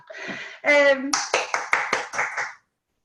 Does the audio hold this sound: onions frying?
no